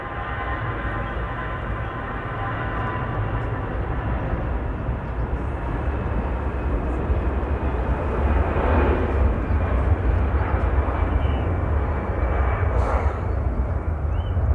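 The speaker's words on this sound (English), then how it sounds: "EasyJet to Berlin, GZTA with flight 2201." EasyJet airliner taking off at Manchester Airport on flight 2201 to Berlin, a heavy, building roar of jet engines that grows louder and rougher over the clip, heard on its own.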